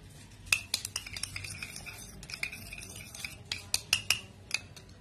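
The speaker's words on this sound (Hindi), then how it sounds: "तो ये देखिए हम इसे अच्छे से मिक्स कर लेंगे।" Homemade night cream being mixed in a small bowl, a run of close, bright clinks and scrapes of a spoon against the container in an irregular stirring rhythm, fairly quiet, with no voices.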